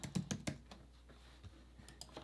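Typing on a computer keyboard close up, a quick cluster of four sharp key clicks followed by a few scattered, softer taps.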